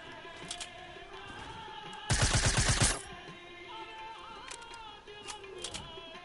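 A loud rapid burst of automatic gunfire in a video game 1v1 match, about a second long, standing out clearly against quieter game ambience with faint pops before and after.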